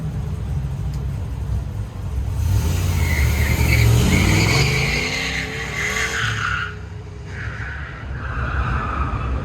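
A Stormtrooper Nova autocross car with a 376 cubic inch LS engine launches hard, tires squealing and engine roaring loud and close, then fading slightly as it pulls away.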